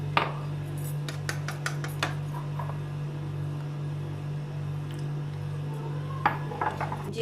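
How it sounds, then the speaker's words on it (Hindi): Egg roll batter being whisked in a bowl as milk goes in bit by bit, with scattered light clinks of utensil against the bowl over a low steady hum. "थोड़ा थोड़ा दूध डालते जाना है और इसको मिक्स करते जाना है"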